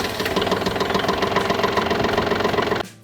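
The diesel engine of a Kubota L3302 compact tractor idles with a loud, steady clattering knock close by, then cuts off abruptly near the end.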